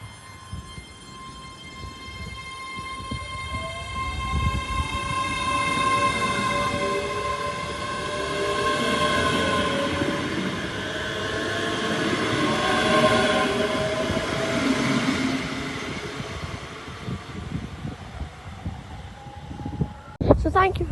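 A passenger train on the West Coast Main Line at Carluke, running from Glasgow Central to Lanark, departs in a swelling rumble with steady electric whine tones and rising pitch, loud and close, under strong wind.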